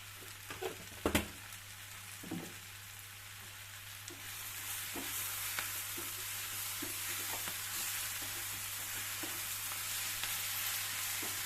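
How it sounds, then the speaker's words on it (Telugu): Bachali spinach curry with sprouted moong fries uncovered in an open pan. A few early knocks of the spoon give way to a steady, quiet sizzle, with occasional stirring scrapes. "మూత పెట్టకుండా పది నిమిషాలు అలాగే వేగనివ్వాలి అడుగు మాడిపోకుండా మధ్య మధ్యలో కలుపుతూ ఉండాలి"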